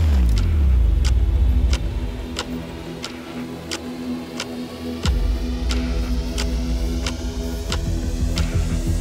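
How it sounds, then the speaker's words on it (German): A car is being driven, with a low engine rumble underneath and a regular, evenly spaced ticking like a turn indicator. The sound shifts once midway, and no one speaks. "Ich fahre das Auto hier."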